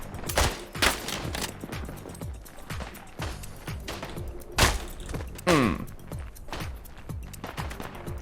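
Rapid bursts of machine gun fire and scattered gunshots in a slower-paced video game shooter, repeating through the clip amid thumps and impacts, with quiet talk in the background.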